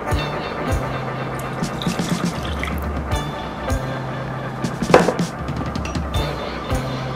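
Water poured into a large mixing bowl for pumpkin streusel muffin batter, with eggs already in it: a steady close trickle and splash with drips and a brief louder splash midway.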